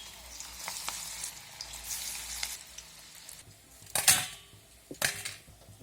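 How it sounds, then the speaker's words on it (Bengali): Jackfruit pakoras deep-fry in hot oil with a continuous crackling sizzle, broken by a few sharp clattering bursts of utensil against pan close by. "একই রকমভাবে আমি বাকিগুলো ভেজে নেব।"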